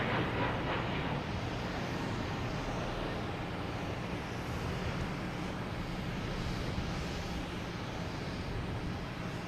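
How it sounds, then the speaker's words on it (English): An Aer Lingus A321neo airliner taking off at Boston Logan Airport gives a broad, steady jet roar heard at a distance, faint and continuous without clear peaks, and no voices over it. "Now we've got Aer Lingus taking off"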